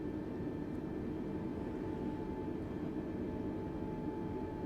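Airbus A320neo engines in Microsoft Flight Simulator 2020 drone in a steady, low roar with a faint whine on top, holding constant and without voices.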